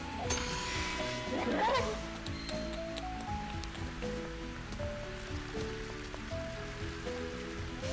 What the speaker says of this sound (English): This rain is making me worry.